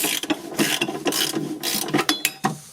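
Ratchet wrench loosening a 10 mm bolt on a Toyota D4D diesel engine during injector replacement, a close series of quick clicking bursts in short strokes with brief pauses between them.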